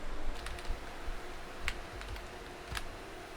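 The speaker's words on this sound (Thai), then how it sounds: "ผมจะพิมพ์คำว่า น่ารักแล้วกันนะครับ" Quiet typing on a computer keyboard, a handful of light, irregular key clicks spread over a few seconds against a soft hiss, with no voices.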